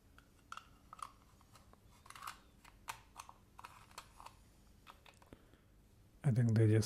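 Small plastic clicks from an eraser dispenser mechanism, a repurposed candy machine, tapping out in an irregular series of faint, close clicks, then a burst of louder handling noise at the end.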